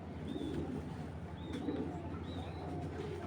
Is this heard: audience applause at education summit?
no